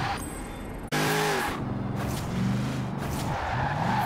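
Burnout in Forza Horizon 4 with a Hot Wheels Legends International Harvester: a loud, sustained engine roar with squealing tires. It cuts in sharply after a brief dip and holds steady to the end.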